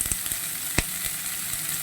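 Onions for onion samosa sauté in a pan with a little salt, a steady bright sizzle running throughout, broken by a few sharp stirring clicks and one louder scrape near the middle, with no talking.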